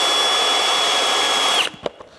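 A small power drill bores into metal near pumps and hoses behind a diesel engine, a steady loud whine running for about a second and a half before cutting off, followed by a few faint knocks.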